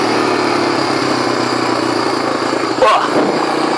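Small Honda 300/350 engine on an off-road ride, a close, steady motor drone that swells briefly with a revving burst near the end.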